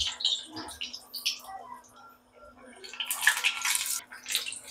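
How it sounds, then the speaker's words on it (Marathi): Potato and poha veg cutlets coated in cornflour and breadcrumbs fry in hot oil, giving off bursts of soft bubbling and crackling sizzle that swell, fade and return. "मस्त लालसर तळून घेते।"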